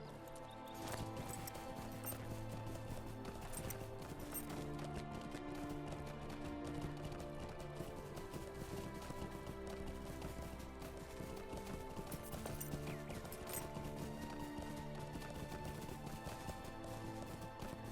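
Steady hoofbeats of a horse trotting along in the game Lord of the Rings Online, continuous and fairly close, over a dense layer of game music and ambience with no talking.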